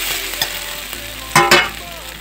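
Potatoes fry in a pan with a steady sizzle while a utensil stirs them, scraping and clacking against the pan in a few sharp knocks, the loudest pair near the end.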